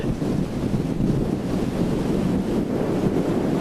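Wind buffets the microphone in a steady roar with gusty swells, alongside a faint wash of water, on the lakeshore at Milang.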